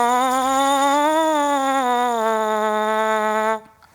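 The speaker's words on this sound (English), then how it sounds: "When I make the buzz sound into my mouthpiece," A French horn mouthpiece buzzed by the lips alone gives one sustained, loud, nasal, duck-like tone lasting about three and a half seconds, with a slight wavering pitch, then it stops abruptly.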